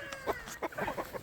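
Chickens in breeding coops give a few short, soft clucks in quick succession, faint and close by.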